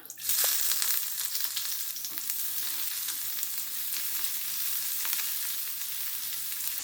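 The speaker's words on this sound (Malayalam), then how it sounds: "ഇനി നമുക്ക് ഈ അരിഞ്ഞു വെച്ചിരിക്കുന്ന ഉള്ളി ചേർക്കാം" Chopped onion frying in hot oil with chilli in a pan for Kerala yam leaf thoran, a steady close sizzle that starts loud and holds evenly, with no talking.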